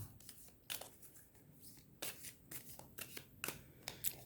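Tarot cards are shuffled by hand, with a quiet, close series of crisp riffling bursts and soft slides in an uneven rhythm.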